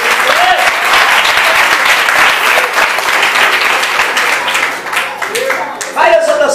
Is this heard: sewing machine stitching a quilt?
no